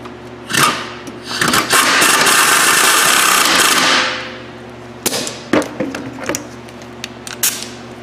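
A rear brake bolt on a Hyundai Sonata is tightened with a power tool, giving a loud, close whirring burst of about three seconds, followed by sharp metallic clicks and knocks.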